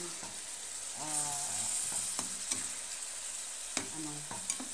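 Milk and peach apple being stirred together in a pan, a low soft scraping with a faint sizzle and a few sharp clinks of the utensil against the pan, close and fairly quiet.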